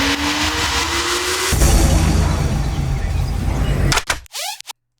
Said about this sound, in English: Stuff like that, like the gunshots, you know, you're walking up to the boss, you're loading your gun.